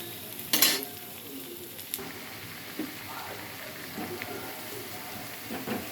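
Garelu, lentil fritters with ginger and onion, frying in oil give a soft continuous sizzle. A sharp crackling burst comes early, followed by occasional scrapes and clinks of stirring, with no talk.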